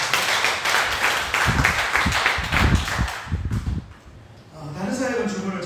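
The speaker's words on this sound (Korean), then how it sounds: "박수로 감사하고" A church congregation claps in thanks during a Sunday service, a burst of scattered claps swelling and fading over several seconds, mixed with talk and room murmur before a voice resumes.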